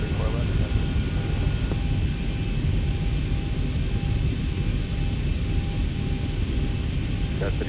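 A steady, loud engine roar as an airplane takes off from Denver runway 34 left in a flight simulator, a constant rumbling drone with radio voices talking over it.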